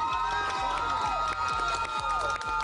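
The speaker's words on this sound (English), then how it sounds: "A round of applause for all of our models" Audience at a prom dress fashion show cheering and clapping for the models, a loud, steady crowd roar with whoops and shouts over rhythmic thumping.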